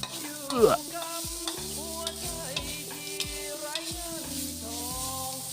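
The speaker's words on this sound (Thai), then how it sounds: "ผัดผัดผัดผัดผัดนะครับ ผมชอบแห้งๆนะครับ ผมก็จะผัด นานหน่อยนะครับ" Frog curry being stir-fried in a pan gives a soft, continuous sizzle with scraping stirs, fairly quiet beneath rhythmic background music.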